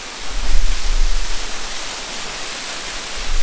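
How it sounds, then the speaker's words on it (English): Gibraltar Falls, a waterfall in Australia's Snowy Mountains region near Canberra, rushes in a loud, dense, steady roar of falling water with no voices. "I don't know why it's called Gibraltar Falls in Australia, but it's a waterfall."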